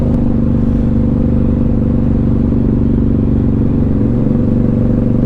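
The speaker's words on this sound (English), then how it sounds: "I'm out here ripping my face off this loud exhaust." A 2007 Suzuki M109R cruiser with a loud aftermarket exhaust rumbles close by, its deep, throbbing engine note steady and heavy with a slight dip in revs near the end.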